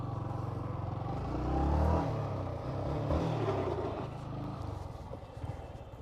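A Bajaj Pulsar NS200 motorcycle engine rumbles close by as the bike lands from a wheelie, swelling briefly in a rev before settling back to a steady idle-like drone, with no voice over it.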